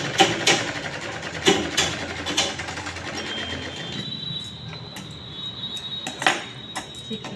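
A sewing machine runs stitching the lining of a 42-inch blouse, a fast mechanical rattle in bursts with sharp clicks between runs, close and fairly loud, with a faint high whine in the latter half.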